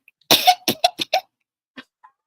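Several harsh coughs from a person indoors: a burst of four or five quick hacks, then two softer isolated coughs after a pause, close and clear with no talk.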